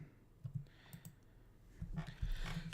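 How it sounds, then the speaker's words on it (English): Mouse clicks on a computer while editing a Google Sheets spreadsheet, a few sharp close clicks including a quick double click, followed by a louder cluster of clicking near the end, with no talking. "So double click on that."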